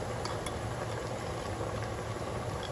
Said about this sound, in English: we're in boiling water and we're almost done